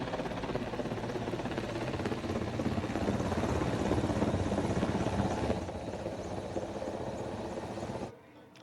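A helicopter flying over Rishikesh AIIMS to shower flowers gives a loud, steady rotor thrum with rapid blade chop. The sound holds strong for several seconds, then eases off and cuts out abruptly near the end.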